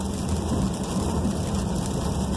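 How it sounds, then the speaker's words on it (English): Hard rain drums steadily on a moving VW Tiguan, heard from inside the cabin as a dense, even hiss over low road rumble. "you can hear the rain"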